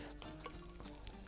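Raisins and almonds frying in a pan for a cauliflower dish, giving a steady, fairly quiet sizzle with scattered small pops and crackles and no talking.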